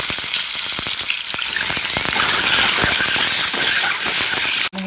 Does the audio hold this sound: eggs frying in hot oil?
yes